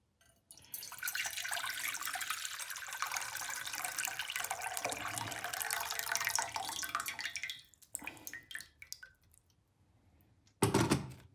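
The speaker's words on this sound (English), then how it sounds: "we're gonna try to pour some water in again" Water pours steadily into a metal pot for several seconds while cooking dahl, then stops, followed by a few drips, clinks and a brief splash.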